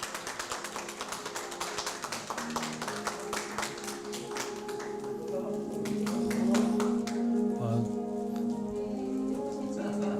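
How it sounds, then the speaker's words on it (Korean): Applause at a health and medical technicians' day award ceremony, starting as scattered, distinct claps and thickening into steadier clapping, with a voice speaking over the later part. "큰 박수 부탁드리겠습니다"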